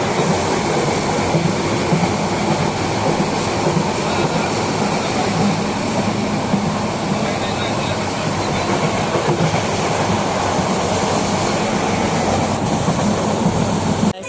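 A Parjatak Express passenger train rolls along in a steady, loud rumble with rhythmic clickety-clack of wheels on rail joints, heard from on board throughout.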